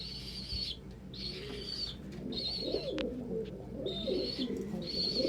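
Young pet doves or pigeons about five weeks old coo softly, with wing flapping and bursts of high chirps repeating in a few clusters, close by with no talking.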